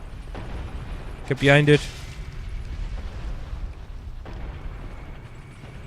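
A pyromancy fire explosion in Dark Souls bursts as a short, loud whoosh-boom lasting about half a second amid quieter game ambience, with someone speaking briefly.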